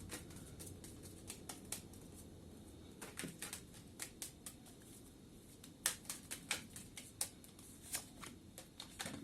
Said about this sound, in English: Sorry, throwing cards.